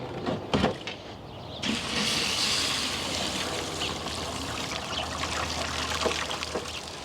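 A garden hose sprays water outdoors to rinse out the plastic tub of a Tower Garden Home, a steady hissing rush after a few brief knocks at the start.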